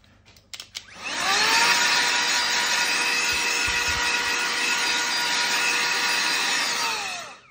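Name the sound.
small air blower cleaning dust from MacBook Pro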